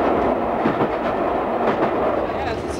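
Steady rumble and rattling clatter of a British Rail train rolling along the rails in Scotland, heard from inside a carriage, continuous and fairly loud.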